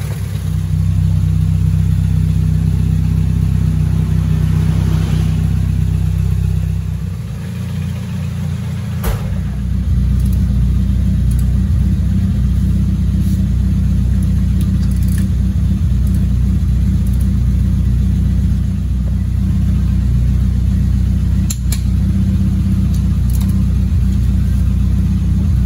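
A car engine on a test drive after brake repair for failing brakes hums as a steady, loud low rumble throughout, with no talk.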